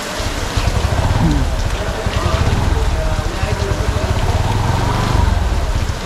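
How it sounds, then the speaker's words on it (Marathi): Heavy monsoon rain pouring outside Sangameshwar railway station at night, a loud steady wash of rain across the whole stretch with low rumbling underneath. "पाऊस बघे तुफान सुरू झालाय"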